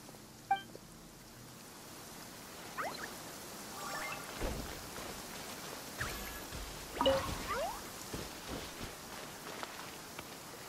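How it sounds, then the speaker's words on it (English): Rain falling in the Genshin Impact video game, a faint, steady patter and drizzle hiss running throughout, with scattered soft drip-like taps and a few brief game sounds over it. "Why is it raining?"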